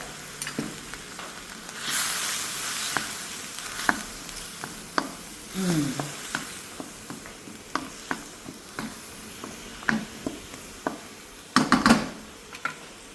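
Thai green curry sauce with coconut milk thickens in a pan over a soft, steady sizzle. Frequent clicks and scrapes of stirring punctuate it, with a busier cluster of knocks near the end.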